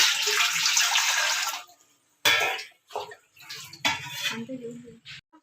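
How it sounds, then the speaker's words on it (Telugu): Water is poured into a kadai on the stove while making a sweet for Vinayaka Chavithi: a steady rushing pour lasts about two seconds. Brief clanks of pots and utensils follow, along with faint talk. "వాటర్ పోసుకుందాం"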